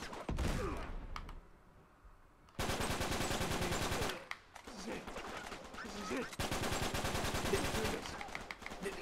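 Sniper and automatic gunfire in the video game Uncharted 3: Drake's Deception, with loud bursts of rapid shots cut by short pauses and a near-silent gap, some brief game voices mixed in.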